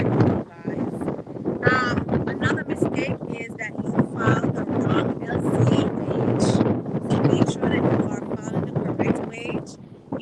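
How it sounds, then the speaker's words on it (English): Wind buffets a microphone on a waterfront, a continuous rough rumble and gusty noise running beneath a person talking close to the mic throughout. "if it sounds windy, remember I'm on the waterfront, so yes, it's going to be windy"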